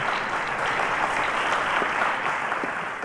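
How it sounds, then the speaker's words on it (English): A studio audience at a school quiz show gives a loud, even round of applause that holds steady throughout with no talking over it. "A round of applause, guys."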